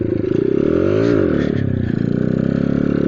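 Dax 50 motorcycle engine revving loud and close as the rider accelerates in gear for a wheelie, a steady buzzing drone that rises in pitch, dips and climbs again, with some clatter underneath.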